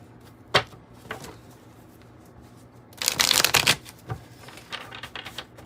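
Tarot cards being shuffled up close: a few isolated flicks and taps, then a dense burst of riffling, followed by scattered softer card snaps.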